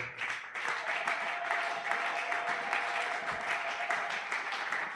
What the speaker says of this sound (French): Que l'Église acclame très fort.